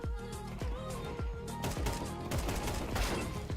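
AK assault rifle fired in a video game, a fast run of sharp, loud, close-range shots in quick bursts with brief gaps, under faint talk.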